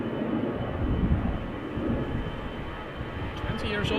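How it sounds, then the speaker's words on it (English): A Finnair Airbus A321, about 20 years old, takes off at Schiphol airport as a dull, moderate jet rumble that stays fairly even, with a few faint higher sounds near the end. "First one taking off from Cheaters Lane is the A321 to Helsinki, Finnair flight"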